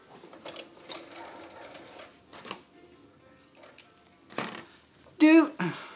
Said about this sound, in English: When I sew and I concentrate. The backstitch goes so slow on this.